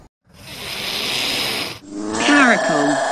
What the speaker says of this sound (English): Caracal.